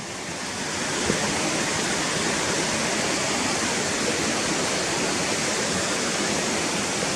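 River water rushes over stones in a steady, dense wash that carries on unbroken and fairly close, with no voices.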